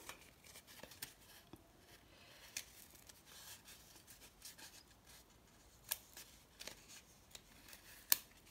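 Scissors cutting a paper circle make quiet, close snips and rustles in an uneven rhythm, with a few sharper clips standing out.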